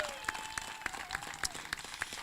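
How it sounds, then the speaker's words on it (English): Outdoor crowd at an aviation center groundbreaking ceremony applauding and cheering, a sustained wash of clapping with a few sharper pops and a faint voice rising over it. "Let's cheer"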